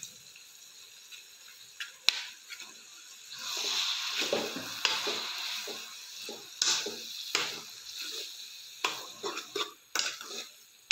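Soya keema goes into a pan of frying onions, with a soft sizzle and intermittent scraping and stirring clatter from a spatula, fairly close and moderately quiet.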